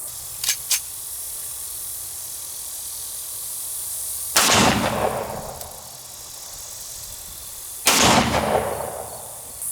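Two loud .45 ACP pistol shots, a 230-grain full metal jacket and a bonded jacketed hollow point +P round, fired into a metal dumpster outdoors, each a sharp crack with a ringing decay, spaced a few seconds apart after faint clicks.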